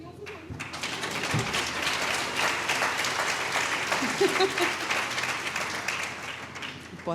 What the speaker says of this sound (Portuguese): Podem aplaudir, não tenham vergonha.